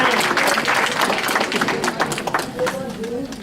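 Applause from a crowd at a political party presidential event, many hands clapping in a dense patter with cheers and voices mixed in, gradually thinning toward the end.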